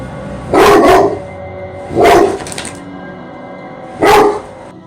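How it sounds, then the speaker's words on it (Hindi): A dog barks sharply three times, in loud, close bursts about one and a half to two seconds apart, with quiet pauses between them. "एक दिन अचानक से ही उनका डॉग यानी कि उनका कुत्ता बिना किसी वजह ही इस तरीके से रिएक्ट कर रहा था।"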